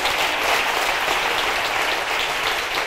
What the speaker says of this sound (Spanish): Un aplauso, por favor, gracias.